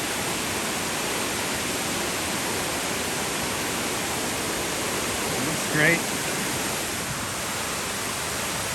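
Steady, loud rushing roar of a waterfall fills the whole clip, with a person briefly speaking over it near the end.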